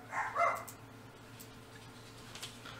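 A dog gives a couple of short, fairly faint barks right at the start, followed by a quiet room with a low background hum.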